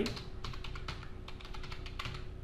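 Rapid, continuous typing of a prompt into ChatGPT on a computer keyboard, close and fairly loud, with irregular clusters of clacking keystrokes and a faint steady hum underneath.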